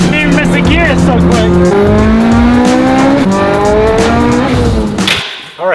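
A Mitsubishi Evo 8 pulls hard through its gears, loud and close, the engine note climbing and dropping at each quick shift before cutting off sharply at the end.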